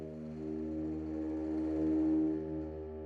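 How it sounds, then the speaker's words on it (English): Flutter-tongue string samples from the Spitfire Albion V library: a sustained, buzzing layered chord with a rapid fluttering texture, swelling gently in the middle and fading slightly, heard alone. "And we have the flutter tongues."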